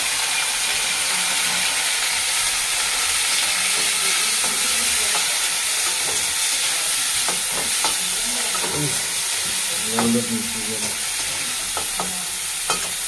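Boiled shrimp fry in hot oil in a pan with whole green chillies, giving a steady, loud sizzling hiss throughout, with occasional light stirring scrapes and pops rising above it.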